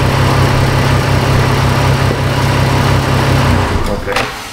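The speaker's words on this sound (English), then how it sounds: "Let me shut the engine off here." A car engine idles with a loud, steady hum and rumble close by, then shuts off near the end, its drone fading out to near quiet.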